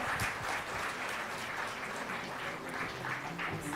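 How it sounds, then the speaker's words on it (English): An audience at a women's awards ceremony in Chennai applauds a psychiatrist honoree, a steady wash of many hands clapping, distant and faint in a large hall. "Maybe have a warm round of applause for her."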